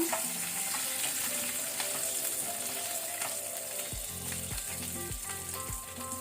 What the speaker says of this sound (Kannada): ಇದನ್ನು ಲೋ ಫ್ಲೇಮ್ ಅಲ್ಲಿ ಸ್ವಲ್ಪ ನಾವು ಫ್ರೈ ಮಾಡ್ಕೊಳ್ಳಿ, ಹುರಿಯುವ